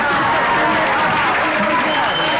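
A crowd claps and cheers to welcome Professor Siddhu, dense continuous applause and hubbub filling the scene with voices mixed in.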